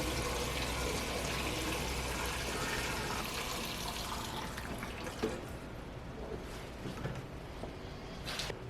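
Fuel, with E85 about to follow, draining out of a right-hand-drive turbocharged Honda CRX as a steady liquid rush and trickle that eases off halfway through, with a few drips and small knocks near the end.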